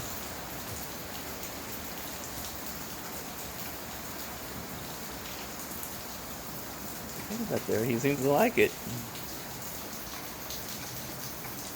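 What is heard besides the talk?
rain falling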